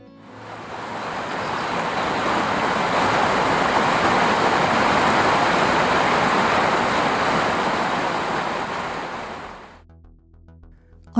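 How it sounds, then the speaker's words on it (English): Bilstein waterfall in East Lothian, Scotland, rushes as a broad, steady roar of falling water, loud and constant, then drops away abruptly near the end. "But not too far from the village is the Bilstein waterfall,"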